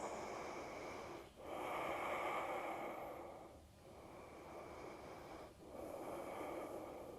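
Slow, deep breathing held during a yoga pose in a vinyasa class, with long airy inhales and exhales heard close, broken by brief dips where one breath turns into the next.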